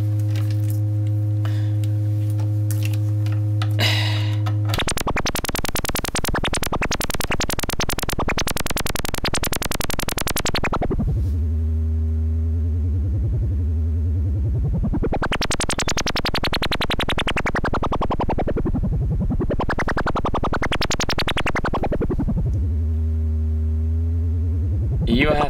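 Pitch modulation on a Snazzy FX Dreamboat synth produces loud, continuous tones that sweep up and down in wide, slow arcs, starting from a steady droning note.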